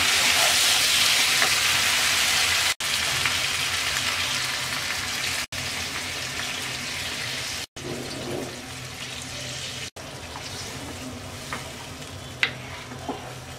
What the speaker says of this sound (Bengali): এবার ঝোলের জন্য দিয়ে দিচ্ছি 3 কাপ পানি